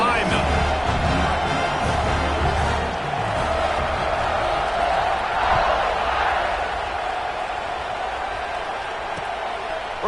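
Crowd noise fills a football video game stadium as a steady, loud roar across the whole stretch, with no clear pauses or peaks.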